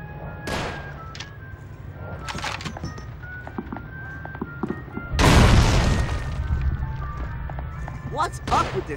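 A grenade explosion in the video game Call of Duty 3 bursts loudly midway after scattered thuds and shots, leaving a rumbling tail, with voices talking in the background.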